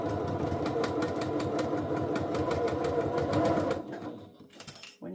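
A sewing machine stitches through fabric with a steady, fast mechanical hum and needle chatter for about four seconds, then slows and stops, followed by a few faint handling sounds.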